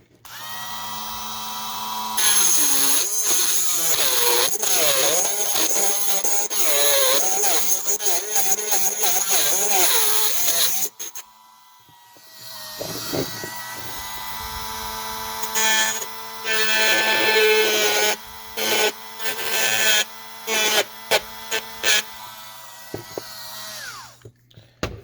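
A rotary tool deburring the roof of a Matchbox No. 38 Vauxhall Victor Estate die-cast model, a loud, close high-pitched whine that rises and falls in speed, cutting out briefly midway before resuming in short bursts.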